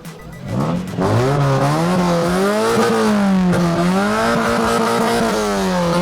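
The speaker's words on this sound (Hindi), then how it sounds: "और एग्जॉस्ट की आप जरा आवाज तो हमें सुना दें जरा" A red 1988 Honda Civic with a D15B engine and HKS exhaust revs repeatedly at a car show, the loud close exhaust note rising and falling in smooth swells over several seconds.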